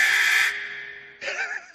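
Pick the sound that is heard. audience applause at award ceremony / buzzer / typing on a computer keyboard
buzzer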